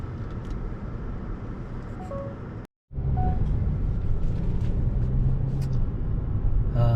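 A Hyundai Grandeur IG hybrid on a test drive gives a steady, close cabin hum of road and engine noise, cut by a brief dropout, then resumes with a low engine drone rising toward the end.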